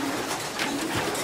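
Soft cooing of male pigeons in a loft, faint and brief against a steady background hiss.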